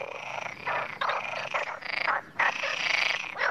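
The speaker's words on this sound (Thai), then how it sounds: "กบทำเสียงร้องคร่ำครวญโดยการเป่าลมออกจากปอดผ่านเส้นเสียงและขยายการสั่นสะเทือนผ่านถุงลม" Frogs croak in a dense, continuous chorus during spring in an Iberian forest, their overlapping calls loud and close with brief dips between bursts.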